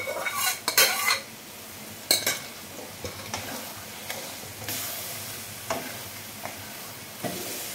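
A spoon scrapes and clinks in a pan while masala for motor ghugni fries with a low sizzle, sharp irregular metallic knocks over a steady hiss.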